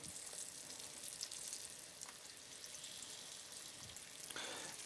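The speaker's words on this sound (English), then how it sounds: "You want to hear the sizzle." Chicken pieces sizzle in a puddle of oil in a pan, a steady bright crackling hiss with small pops, close and continuous throughout.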